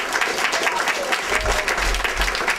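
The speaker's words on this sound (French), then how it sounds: "on l'applaudit parce qu'elle a été une chef d'orchestre extraordinaire" Audience applause for a woman being honoured as an outstanding orchestra conductor, a dense, steady patter of many hands filling the room for a few seconds with no voices over it.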